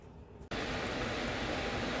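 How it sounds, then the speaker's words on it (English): A restoration ionizer running right beside a home kitchen switches on abruptly after a quieter moment and then sends out a steady, broad, loud whooshing hum with no pauses. "the restoration team has brought an ionizer in and they put it right next to the kitchen"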